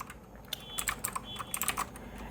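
Fairly quiet typing on a computer keyboard, a quick irregular patter of keystrokes lasting a couple of seconds with no talking over it.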